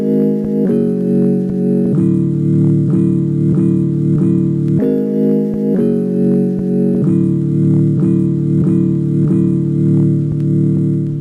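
Chopped piano sample beat built in Ableton and sampled into an MPC, looping repeated chord stabs in a steady rhythm, loud and unaccompanied by voices.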